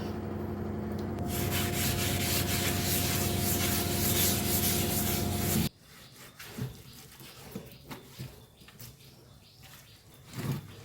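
A surface scrubbed clean with a cloth and homemade lemon bio-enzyme cleaner: steady, close rubbing strokes run for about six seconds, then stop, leaving only faint scattered clicks and handling noises.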